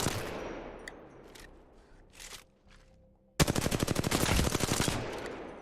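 Automatic weapon fire from an Apex Legends firing-range strafing drill: a few scattered shots and short bursts, then a loud, rapid sustained burst of evenly spaced rounds lasting about two seconds.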